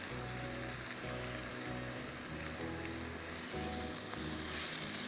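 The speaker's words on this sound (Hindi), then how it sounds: "इसको आपको अच्छी तरह से फ्राई करना है।" Chopped onions fry in a pan with a steady, close crackling sizzle that continues without a break, under a low background hum.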